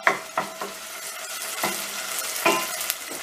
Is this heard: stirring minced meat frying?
yes